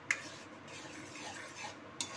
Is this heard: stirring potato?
yes